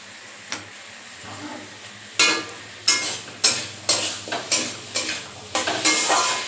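Spice masala for an egg and potato curry sizzles in hot oil while being stirred, with a steady fry under a run of repeated scraping strokes and clinks of the utensil against the pan, close and fairly loud.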